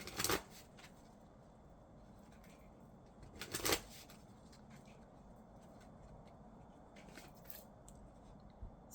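Oracle cards from the Wisdom of the House of Night deck are shuffled quietly in three short riffling bursts, separated by a soft, hushed room background.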